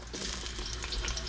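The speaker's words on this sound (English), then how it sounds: "Our wok was already preheated, so it's really nice and hot. With that, we're going to put our chopped up onion" Chopped onion hitting a preheated, very hot wok, giving a loud, steady sizzle and crackle of frying close up, with no talking.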